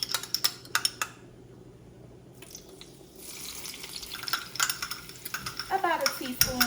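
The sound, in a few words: minced garlic sizzling in heated olive oil in a pan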